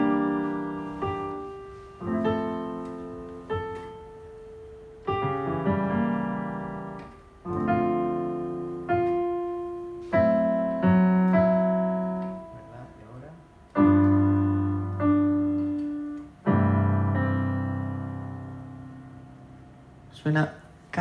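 Fully diminished seventh chords played on a keyboard instrument as a harmony example, a series of sustained chords struck one after another at an even pace and alone, with no voices.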